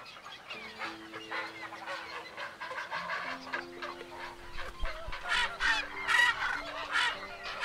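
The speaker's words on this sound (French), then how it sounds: "Et les héronnières du Delta comptent des milliers d'oiseaux." Thousands of birds in a heron colony in the Camargue delta call at once, a dense, continuous chorus of harsh squawks and honking cries overlapping at varied distances, with no talk.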